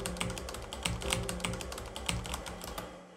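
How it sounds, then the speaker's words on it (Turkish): Rapid clicking keystrokes on a computer keyboard, heard in a noisy setting, with irregular bursts of key presses at close range, steady and unbroken, and no voices. "Klavyenizi kullanıyorsunuz."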